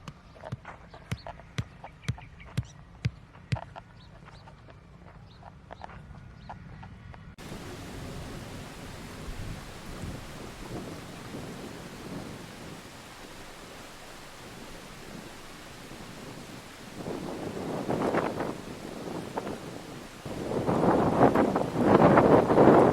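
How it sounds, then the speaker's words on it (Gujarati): Broadband wind noise from cold wind and approaching rain rushes over the microphone, building stronger and gustier toward the end, after a quieter opening with sharp ticks. "ઠંડો પવન આગળથી વરસાદ વરસતો આવે છે"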